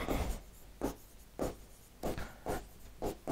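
Chalk or marker strokes writing on a board during a classroom lesson, a run of short scratchy strokes in quick irregular bursts, close and clear, with no talk over them.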